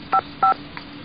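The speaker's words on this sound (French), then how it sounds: "Je vais appeler Carlos Eduardo pour savoir s'il peut venir le voir" Touch-tone telephone keypad dialing a number: two distinct, clear beeps of equal length, evenly spaced, with a fainter third tone after, in a quiet room with no talking.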